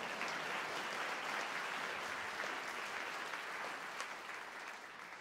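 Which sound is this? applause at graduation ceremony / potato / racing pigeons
applause at graduation ceremony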